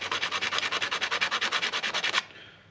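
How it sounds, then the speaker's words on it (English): Rapid, steady back-and-forth sanding strokes on wood, about fifteen rasps in a row, close by, then stopping abruptly. "I think I might try to sand that down a little bit farther"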